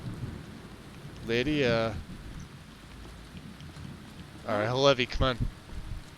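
Steady rain with a low thunderstorm rumble fills the background in From the Mire, a dark fantasy game setting, while someone speaks briefly twice over it.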